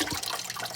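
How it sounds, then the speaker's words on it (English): An axolotl tank filter runs with the water level low, producing a continuous splashing, gurgling trickle of falling water, steady and fairly close, with no voices. "This is what the filter sounded like all night"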